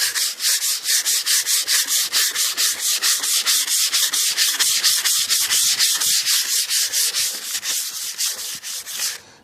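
Hand sanding on the body of a 1988 Cadillac DeVille, a loud, close, rhythmic scratchy rasp of rapid back-and-forth strokes, about three per second, continuing steadily for the full stretch with no talk.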